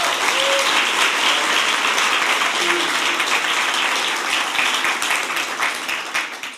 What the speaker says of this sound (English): can we have a round of applause for Richard?